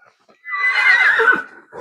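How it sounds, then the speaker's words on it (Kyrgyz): A Kyrgyz horse gives a single loud, close whinny lasting about a second, rising then trailing off into a snort. "Бул өз үстүнө кыргыз жылкы окшойт го"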